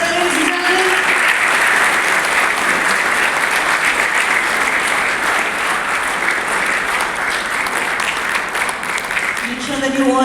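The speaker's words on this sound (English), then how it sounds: "Put your hands together, ladies and gentlemen." A crowd at a business chapter launch event applauds loudly and continuously for about ten seconds, with a voice speaking faintly through the clapping near the start and again as it fades.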